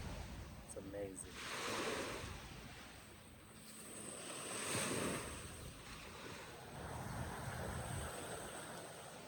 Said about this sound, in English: You can hear some water. You can feel some breeze. The waves from the lake.